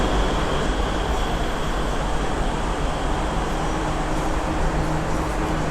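Steady, loud roar of a Bangkok MRT Purple Line metro train at its terminal station, a dense continuous rumble with faint high wheel squeal, no voices.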